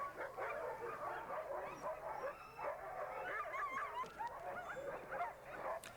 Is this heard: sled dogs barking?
yes